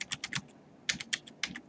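Typing on a computer keyboard: two quick bursts of crisp key clicks, several keystrokes each with a short pause between, close and fairly quiet, no voices.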